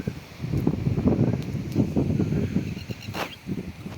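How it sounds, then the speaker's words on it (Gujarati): Strong wind gusts across an open cotton field, buffeting the microphone with low rumbling bursts and rustling, loud and close, rising and falling irregularly. "પવન બહુ છે એટલે થોડીક તકલીફ રહેશે"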